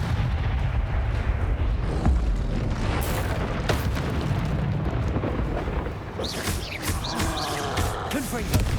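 Confringo fire-blast spell explosions in the Hogwarts Legacy video game come as a continuous roar of booming blasts with crackling debris, loud and close, while a voice speaks over the battle.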